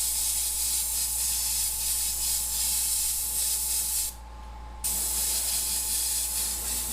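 An airbrush sprays paint onto a skull, giving a steady close hiss that cuts out briefly for under a second and then resumes, with no talk.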